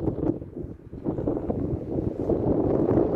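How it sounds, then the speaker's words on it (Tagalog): Steady wind at Porto Rafti near sunset buffets the microphone with a low, rumbling roar that rises and falls without a break. "Ayan, medyo mahangin. Kaya alas-as maririnig nyo ang video ko, mahangin kasi."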